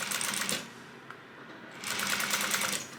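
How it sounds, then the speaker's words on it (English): A sewing machine stitches a crossbody bag in two close, rapid bursts of needle chatter separated by a short pause with a faint click. "I'm just going to stitch all the way down."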